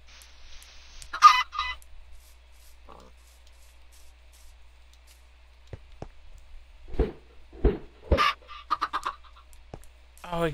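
Video game chickens clucking and squawking in short, bright bursts, some overlapping, spread across a mostly quiet background with a faint steady hum.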